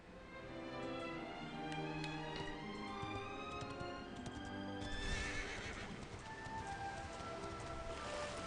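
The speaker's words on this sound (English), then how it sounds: "The horse does not cross the bridge." A horse in the video game Dragon Quest XI S neighs and whinnies over a backdrop of music, with steady clip-clop hoofbeats, heard alone without talk.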